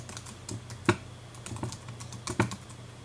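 Fingers tapping on a computer keyboard, a quick irregular patter of close key clicks with a few harder strokes standing out, no voices.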